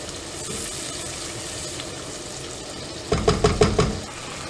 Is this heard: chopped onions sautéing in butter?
yes